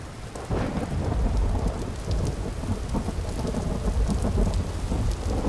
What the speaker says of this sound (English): the thunderstorm seems to have gotten worse